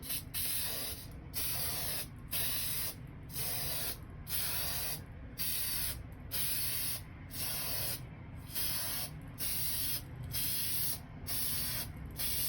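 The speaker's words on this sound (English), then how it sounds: "Shake our can, test the spray." Plasti Dip aerosol can spraying a coat onto a Pelican case's foam insert, a loud, close hissing spray in repeated bursts of about a second each, separated by short pauses, with no voices.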